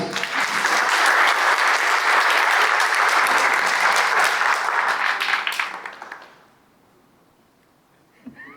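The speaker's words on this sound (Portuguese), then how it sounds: "Uma salva de palmas para a Juliana." Audience at a Senac 2024 lecture applauds Juliana: dense, loud clapping for about five and a half seconds, then fading quickly to near silence with a brief thump at the end.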